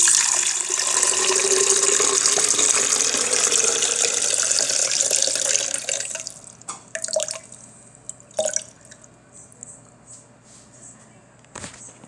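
Water pours steadily into the reservoir of a new Ninja coffee maker for about six seconds, then gives way to scattered drips, small splashes and light clunks.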